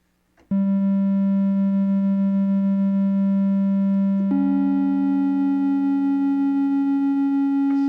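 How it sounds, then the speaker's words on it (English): A synth patch with its filter opened up and LFO modulation added plays a loud, bright, harmonic-rich sustained tone that jumps to a slightly higher pitch partway through, heard alone. "And then what I'm going to do is just add a little bit more of that LFO."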